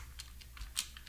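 Several light keyboard taps sound close and quiet, with a slightly louder keystroke near the end, over low background hum.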